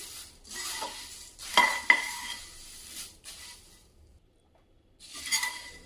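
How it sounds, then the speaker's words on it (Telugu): Puffed rice masala snack being stirred with salt and chili powder, a few scraping, rustling stirs against the bowl with brief clinks, separated by pauses and ending in near silence before one last stir. "ఉప్పు, కారం, ఈ మసాలాలన్నీ బాగా కలిసే వరకు కలుపుకోండి."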